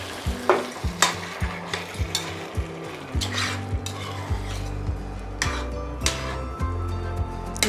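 Crushed tomato hits a pan of browned chicken meatballs and potatoes, bringing a loud sizzle and then a thicker bubbling simmer, with rhythmic metal spoon scrapes and clinks against the pot throughout.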